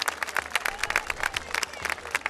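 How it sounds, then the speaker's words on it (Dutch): Audience applause at a children's flower parade in Breda, a dense spread of many hands clapping steadily with crowd noise for a couple of seconds, moderately distant. "Geef ze een geweldig applaus."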